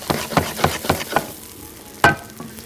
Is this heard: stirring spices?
yes